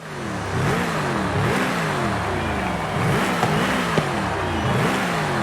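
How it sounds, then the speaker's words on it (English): A Noble M600's Volvo V8 engine revs repeatedly in Forza Horizon 5, its pitch climbing and falling in cycles, loud and continuous. "It's got a big old V8 engine from Volvo."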